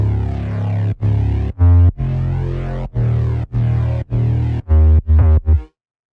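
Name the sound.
synth bass in a music production track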